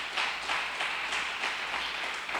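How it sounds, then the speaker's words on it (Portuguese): A church congregation claps together in a steady, even rhythm, moderately distant, a soft roomy patter of many hands with no voices over it. "Você pode dar mais um aplauso ao Senhor aí?"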